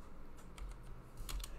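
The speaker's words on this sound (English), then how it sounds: "Another thing that's fun about typing on this keyboard" Keys clack on the small rubber-style keyboard of a Jupiter Ace home computer, a handful of quiet, scattered taps at close range over a faint background hiss.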